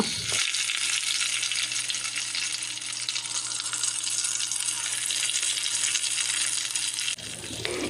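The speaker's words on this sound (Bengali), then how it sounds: "একটি প্যানে অল্প তেল গরম করে একে একে স্টিকগুলো ছেড়ে দিব" Beef tikka kebab sticks fry in a little hot oil in a pan, giving a loud, steady, dense sizzle with faint crackle that runs on unbroken for about seven seconds, then drops away abruptly near the end.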